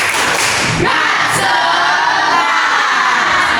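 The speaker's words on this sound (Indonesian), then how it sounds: "1, 2, 3. Tepuk semangat." A class joins in the tepuk semangat spirit clap during a teaching session, a loud, close burst of many voices shouting and cheering together with clapping mixed in.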